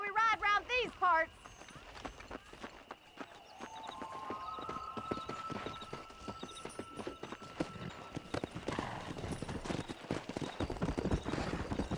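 Horses gallop in Red Dead Redemption, their hooves beating a quick, steady rhythm that grows louder and denser across the ride. A short spoken voice comes first, and a faint musical tone hums underneath.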